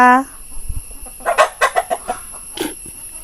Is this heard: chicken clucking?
yes